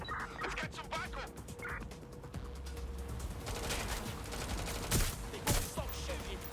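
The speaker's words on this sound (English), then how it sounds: "They won't stop shooting." Gunfire in the video game Watch Dogs: Legion: rapid bursts of crackling shots repeat throughout, with a couple of sharper, louder cracks near the end, while voices talk over the fighting.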